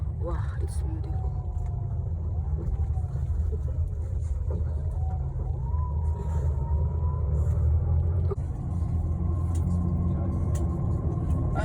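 Tour bus engine rumbling steadily as it climbs a winding coastal corkscrew road in Northern Ireland, a continuous low drone with gear and engine pitch shifting, while a guide's voice talks over it.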